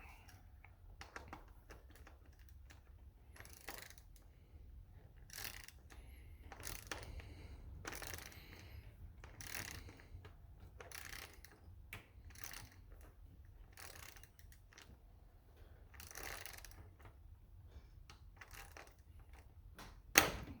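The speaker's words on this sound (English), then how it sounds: "now you can use the ratchet" A ratchet tightens the axle on a Traxxas Stampede Bigfoot RC truck, making faint, rapid clicking bursts that repeat steadily with a louder knock at the end.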